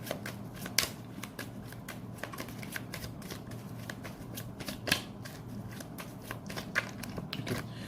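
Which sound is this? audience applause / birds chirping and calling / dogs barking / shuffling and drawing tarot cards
shuffling and drawing tarot cards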